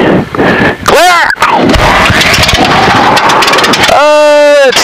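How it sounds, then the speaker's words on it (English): A Luscombe light airplane engine cranks, catches on the first try and settles into a loud, steady running drone, with propeller wash buffeting nearby and a rising whine near the end. "It's nice to get that engine started on the first shot."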